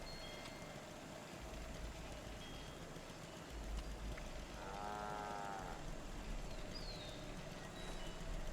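A single drawn-out moo sounds near the middle, low and fairly soft, over a steady low rumble of background noise.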